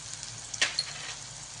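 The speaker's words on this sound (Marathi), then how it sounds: "आता टाकणार आहे बारीक चिरलेला टोमॅटो" Finely chopped tomato hits a pan of frying onion, cumin and mustard seeds with a brief sharp hiss and splatter, then a soft steady sizzle continues.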